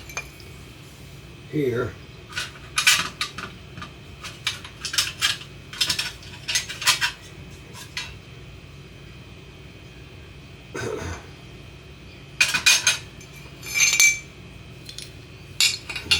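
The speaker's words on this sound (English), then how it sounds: "let me get my meat grinder put together" Metal parts of a meat grinder clink and clatter in bursts as they are fitted together for making sausage, with a throat clear and a short spoken word between the clanks.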